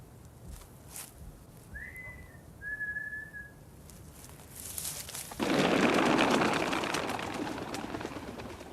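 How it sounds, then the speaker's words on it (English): A person whistles once as a signal in a 1974 children's drama, a short two-part whistle rising then holding against quiet outdoor background, followed by a louder wash of noise. "If it's clear and there's no one waiting, I'll whistle."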